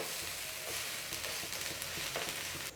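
Egg masala dosa sizzling steadily on a hot pan as it is flipped, a dense continuous fry hiss with soft scraping touches, close and fairly loud throughout before dropping slightly at the end.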